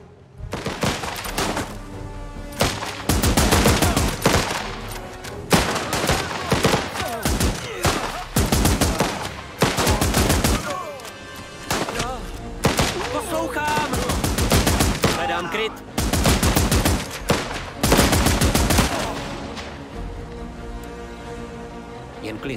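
Dense bursts of gunfire from the video game The Last Train Home, loud repeated volleys in rapid clusters over roughly twenty seconds, with short gaps between, and voices speaking amid the shooting.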